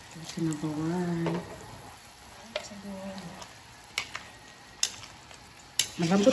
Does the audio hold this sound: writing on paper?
no